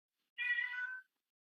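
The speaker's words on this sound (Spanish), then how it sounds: "Ay, gatito." A house cat gives a single clear meow, about two-thirds of a second long and fairly loud, heard alone against silence.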